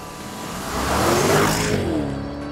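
A Porsche Panamera Turbo accelerates hard, its engine note climbing and swelling to a peak before easing off in one quick, loud surge with no talking.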